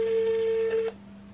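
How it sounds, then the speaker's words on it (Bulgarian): A landline telephone sounds a steady dialing tone for nearly a second, then it cuts off, leaving a quieter line hum with no talk. "сега звънна още един номер"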